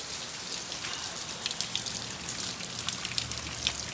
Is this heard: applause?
no